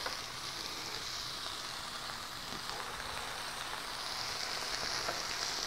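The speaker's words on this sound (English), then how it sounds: "You can hear that puppy sizzle." Artichoke hearts sizzle on a hot panini grill, a soft steady hiss of frying that carries on evenly throughout with no talk over it.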